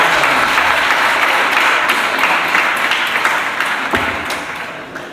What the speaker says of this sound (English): I want all of us to clap for the speakers on the floor